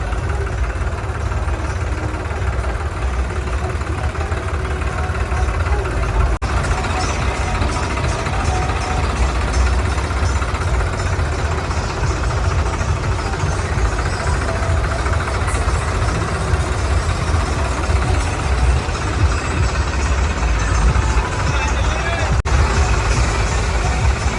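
Many tractors idling at a large farmers' gathering near a grain market in Punjab, a continuous loud low engine rumble with steady throb running unbroken throughout, up close and filling the space.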